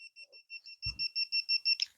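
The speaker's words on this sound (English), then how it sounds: "You hear that beep?" A Dogtra 1900X e-collar gives a rapid series of about a dozen short, clear electronic beeps, growing louder, with a brief knock partway through.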